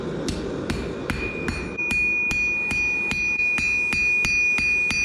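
A sledgehammer strikes a Yakut knife blade being forged, giving about a dozen sharp metallic clangs in an even, steady rhythm, close and loud, with a faint ringing tone sustained between blows.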